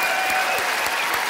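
A brief burst of dense crowd applause from a comedy show audience, loud and even with a few distinct claps standing out.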